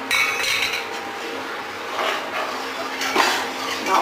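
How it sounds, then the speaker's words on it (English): A utensil stirring a milk and white flour sauce in a pot on the stove, continuous scraping and swishing with occasional light knocks against the metal, close and steady. "Now I have to stir it continuously, and I can't allow it to stand"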